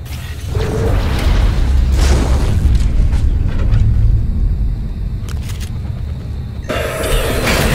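A Kinetic Blast power from the Prey video game, combined with the Mimic ability: deep booming bursts and rumbling low roar fill the moment, with a sharp blast near the start and another toward the end.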